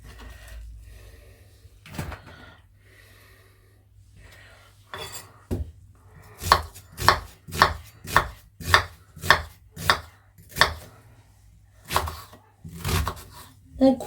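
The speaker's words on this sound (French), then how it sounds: "On coupe bien tout, hein, surtout." Vegetables for a roast capon are chopped with a knife on a cutting board, a rapid, even series of close knocks after a few scattered taps, with a voice speaking faintly in places.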